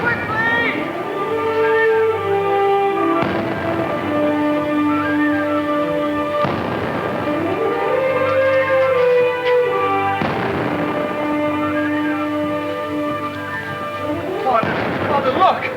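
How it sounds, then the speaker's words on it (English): A ship's cannon fires from offshore, heavy booms recurring every few seconds over a sustained orchestral film score with strong tonal swells. "it sounds almost like the booming of a cannon"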